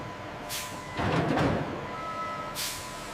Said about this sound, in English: Each truck is precisely positioned for synchronized unloading.